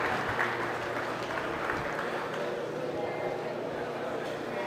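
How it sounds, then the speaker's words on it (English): Audience applause at a 2022 stocker feeder livestock show, a steady run of clapping that carries through the whole stretch, with voices and an announcer audible underneath. "Let's give them a round of applause."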